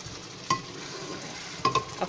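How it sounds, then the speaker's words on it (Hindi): Potato and pea curry fries in a pan over full flame with a soft steady sizzle, broken by a few sharp stirring scrapes near the start and end. "अब फुल फ्लेम में अब हम इसको फ्राई करेंगे।"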